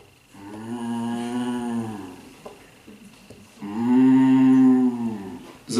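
People imitate a cow mooing at a Sunday festival gathering, two long drawn-out low moos with a short pause between, the second louder and close.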